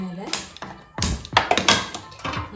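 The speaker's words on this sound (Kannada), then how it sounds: "ಒಂದು ಬಾಣಲೆ ಇಟ್ಕೊತಾ ಇದ್ದೀನಿ." A frying pan set onto a kitchen stove to make mango pickle, heard as several sharp metallic taps and knocks spaced irregularly, with a person talking over them.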